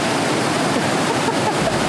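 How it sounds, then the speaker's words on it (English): Torc Waterfall in Ireland sends a massive flow of white water down in a loud, constant broadband roar, close and unbroken with no talking over it. "We're really close to Torc Waterfall right now. As you can see behind us, the massive white water."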